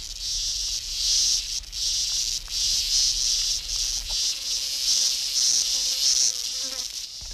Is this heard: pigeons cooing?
no